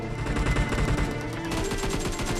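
Automatic gunfire in PUBG Mobile on the Erangel map, fired at a school, comes as dense rapid bursts of shots that continue steadily for the whole stretch at a loud, close level.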